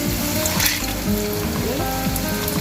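Lady finger bananas frying in a pan of hot oil for banana cue, giving a steady, close crackling sizzle with scattered pops throughout.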